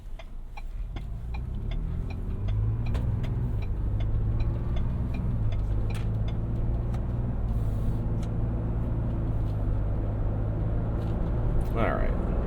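A 2021 Ford Bronco Wildtrak accelerates onto a highway, its engine hum rising and settling into a steady, loud cabin drone with faint clicks and low voices in the background.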